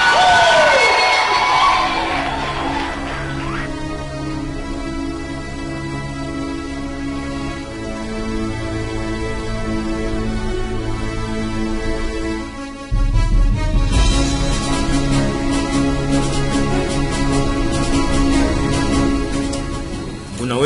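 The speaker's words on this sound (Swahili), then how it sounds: "Piga kelele mbele za Bwana." A church congregation shouts and cheers loudly before the Lord, a sustained crowd roar over loud music that swells again near the end.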